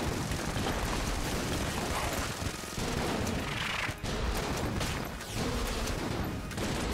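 Enter the Gungeon rocket launcher fire, a dense continuous roar of blasts and explosions packed together with barely any gaps, loud and noisy throughout with a couple of brief dips.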